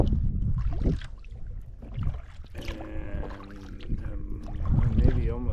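Sea kayak paddling on Lake Powell in Glen Canyon: close paddle strokes and water splashes over wind noise, with someone speaking during the second half.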